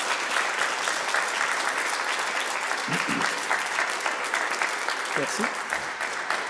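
Loud, sustained applause from a concert crowd for a singer, a steady wash of clapping throughout with a couple of brief voices breaking through, including a short spoken thanks.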